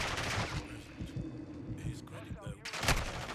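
Fancy gun fired in the video game Call of Duty Modern Warfare II, rapid bursts of shots rattling out in a quick fusillade, with quieter gaps between volleys.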